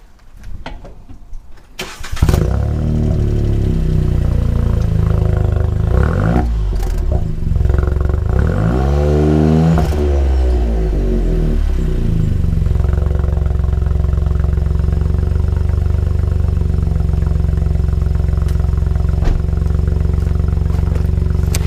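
A modified Volkswagen Up! GTI hatchback engine starts and revs up and down a few times, then settles into a loud, steady rumbling idle close by.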